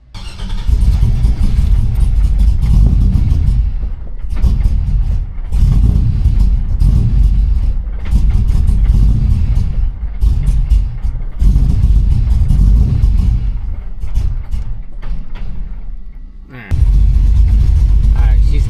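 A 1992 Chevy C1500 pickup with a swapped LS1 V8 runs steadily close by, its low rumbling idle pulsing in and out as it is tuned, with a brief dip near the end before the engine noise resumes.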